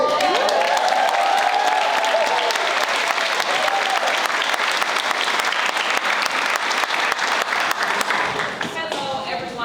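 Loud, sustained audience applause fills a hall at an Oddfellows 50th birthday celebration, dense clapping mixed with crowd noise that carries on steadily and thins slightly near the end.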